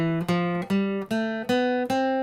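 C Ionian mode scale played as single notes, five or six distinct tones struck one after another in an even, moderate rhythm, each ringing briefly before the next, clear and close with no voices.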